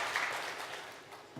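A brief burst of audience clapping welcomes a creative team onto the stage at a public humanities presentation, a soft, diffuse wash heard at a distance that gradually thins out.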